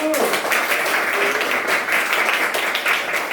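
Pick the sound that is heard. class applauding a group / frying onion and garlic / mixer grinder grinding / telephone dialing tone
class applauding a group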